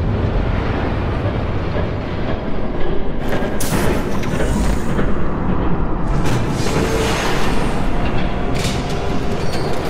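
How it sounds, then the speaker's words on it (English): Rumbling train passing in Batman: The Telltale Series video game, a loud continuous rolling roar with clattering bursts that swell and fade across the whole stretch, no talk over it. "There's a train coming."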